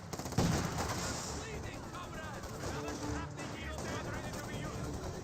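Gunfire and sniper shots in the Company of Heroes 2 strategy game, with a sharp report near the start followed by continuous battle noise and scattered shots. A voice talks over it throughout.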